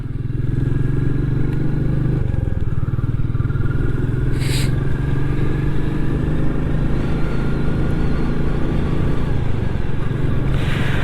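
Royal Enfield Meteor 350 motorcycle with the J series engine, riding after a valve adjustment and air filter modification: a steady, loud low engine drone held throughout, with occasional clatter and brief higher scraping bursts, no talk.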